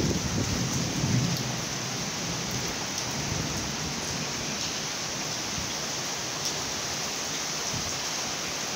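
Heavy rain pouring steadily in Chennai during a thunderstorm, a dense constant wash of downpour with a low rumble of thunder swelling early on, no voices.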